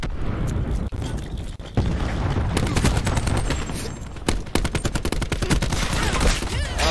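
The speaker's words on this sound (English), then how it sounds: "Throwing cluster grenade." Cluster grenade in Call of Duty setting off a rapid chain of sharp, loud explosions and cracking bursts, dense and close, with scattered gunfire mixed in across the whole stretch.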